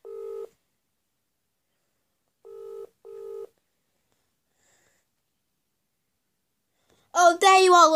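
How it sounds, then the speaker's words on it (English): Three short electronic ringback tones, one alone then a pair, followed by silence and a burst of a person talking at the end. "Okay, I'm ringing her."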